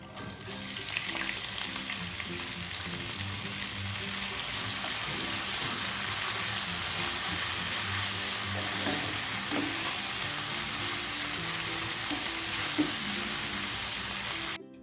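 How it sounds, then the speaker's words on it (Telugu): Horse gram sprouts frying in a kadai with cumin and tempering seeds, a continuous loud sizzle with soft stirring scrapes throughout and no voices. "మన ఉలవల స్ప్రౌట్స్ కడాయిలో వేసి 1 నిమిషం ఫ్రై చేయండి."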